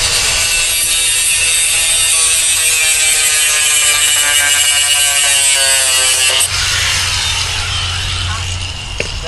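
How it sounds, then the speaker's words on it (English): A grinder cuts jug line material into two-foot pieces, giving a loud, continuous close whine that holds steady for several seconds, then changes tone as the cut ends. "Now we're going to take our grinder."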